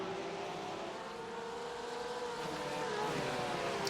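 A pack of Porsche GT3 race cars at Okayama in a racing game drones together in an overlapping engine roar, steady and distant, with the pitch slowly rising and falling.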